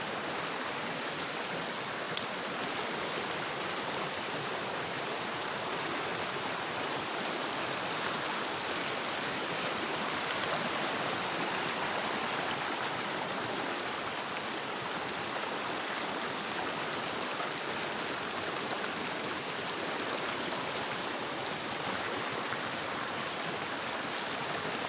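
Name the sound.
river flowing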